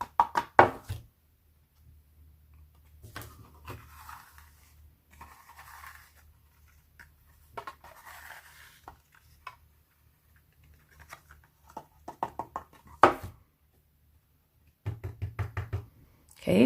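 A card is tapped to knock off loose white heat emboss powder: a few quick sharp knocks near the start, a sudden burst around the middle and a rapid patter of taps near the end, with quiet gaps between.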